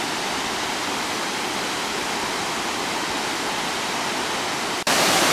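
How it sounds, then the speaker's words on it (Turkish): Victoria Falls roars at Devil's Cataract, where river water plunges 73 metres: a dense, unbroken wall of rushing noise, loud and close, which jumps briefly brighter near the end with no voices. "73 metre yükseklikten nehir sularının döküldüğü Devil's Cataract denen yer"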